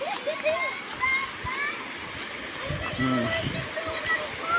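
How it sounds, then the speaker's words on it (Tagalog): A river in Sariaya, Quezon, Philippines rushes and splashes steadily nearby over rocks, a constant loud wash of flowing water with a voice faintly heard over it. "Ito yung pangalawang ilog dito sa amin."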